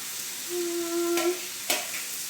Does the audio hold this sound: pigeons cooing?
no